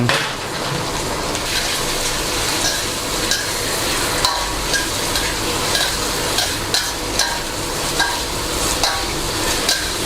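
Sea bass being stir-fried with seasoning sauce of oyster sauce and palm sugar in a pan makes a constant loud sizzle, with repeated scraping and clinking stirs running close and steady, and no voices.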